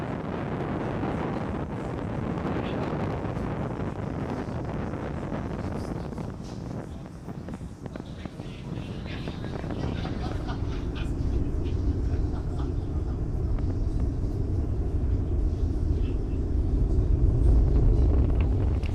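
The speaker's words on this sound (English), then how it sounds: "Falcon 9 has successfully lifted off from Launch Complex 39A" A SpaceX Falcon 9 lifts off from Launch Complex 39A carrying 53 Starlink satellites: a distant, wind-buffeted roar that swells into a deep, heavy rumble as the climb goes on.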